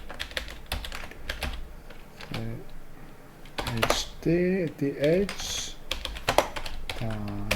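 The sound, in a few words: typing code on a computer keyboard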